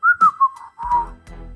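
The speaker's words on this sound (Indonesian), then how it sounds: "Pendekar 212 tertawa dan bersiul" Whistling is used as an effect in an Indonesian audiobook: a series of short, clear, close whistled notes, a few quick chirps and then a longer sliding tone, followed by a low thump.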